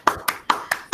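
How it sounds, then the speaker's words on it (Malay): Five separate, sharp hand claps from a small group at a classroom case-study presentation, evenly spaced and close, with short gaps of quiet between them. "Tepuk tangan sikit."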